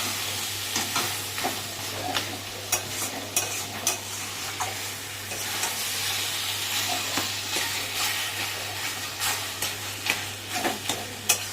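A spoon scrapes and stirs crushed cardamom through eggplant mash in a pan, giving a steady series of close scraping knocks over a soft sizzle, with no talking.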